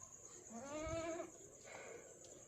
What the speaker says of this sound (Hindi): ये बकरी भी मेरे पीछे पीछे आ रही है